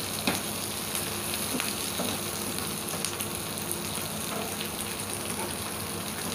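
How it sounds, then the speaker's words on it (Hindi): Vegetables sautéing lightly in butter in a pan, giving a steady, even sizzle and crackle that runs throughout at close range with no talking. "तो इसको हम बस हल्का सा सौते करेंगे"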